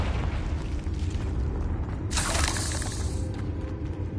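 A Confringo blasting spell in the video game Hogwarts Legacy goes off as one loud crackling burst midway, over steady background game noise.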